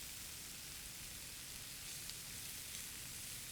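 Onions sizzle in hot olive oil for a carrot and dill soup: a steady, soft, even crackle with no talk over it.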